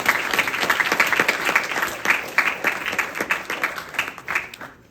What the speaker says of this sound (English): Do give him a round of applause.